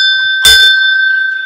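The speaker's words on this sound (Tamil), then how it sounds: "முதல்ல காலிங் பெல் பாருங்கள்." A calling bell at the entrance of a house made largely from recycled materials gives a single short, bright ding, close and loud, with a clear ringing tone that lingers briefly before fading.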